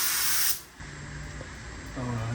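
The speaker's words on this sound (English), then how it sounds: "And then we moved on to spraying the clear coat" An electric spray gun, a $139 model, sprays clear coat onto a car in a garage. It gives a loud, close hiss for about half a second, then cuts off, leaving a quieter background.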